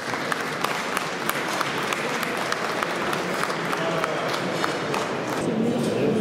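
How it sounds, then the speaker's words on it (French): Dinner guests applaud at an annual association dinner, a dense sustained patter of many hands clapping in a room, with faint voices underneath. "J'aimerais qu'on l'applaudisse très heureusement,"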